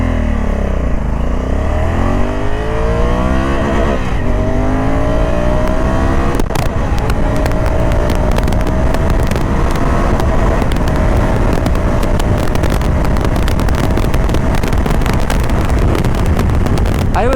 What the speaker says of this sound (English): I was redlining in the first 3 gears.